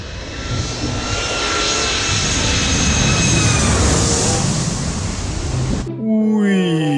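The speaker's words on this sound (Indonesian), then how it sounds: "Ada pesawat." An airplane flying overhead, a loud sustained roar of aircraft engine that holds steady and then cuts off abruptly near the end.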